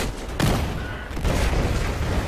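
Gunfire erupts in Battlefield Hardline, a loud burst of shots and booming impacts over a dense, noisy battle backdrop, with a second rumbling volley following shortly after.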